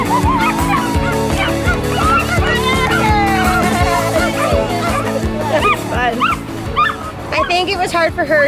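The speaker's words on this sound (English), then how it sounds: "these dogs were making so much noise" Many dogs bark and yip loudly and continuously at a lure coursing event at Cynosport 2017, a dense, overlapping chorus close by, with music or other crowd noise mixed in.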